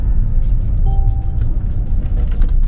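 A Mercedes-Benz EQC electric SUV accelerates hard with instant torque, giving a loud low rumble of road and cabin noise and a faint motor whine.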